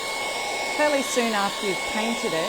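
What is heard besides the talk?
hairdryer drying chalk paint salt impasto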